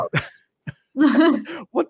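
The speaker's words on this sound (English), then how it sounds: "They're just like pretending to cough." Short throat-clearing coughs come in a few quick bursts, close and fairly loud, with silent gaps between them.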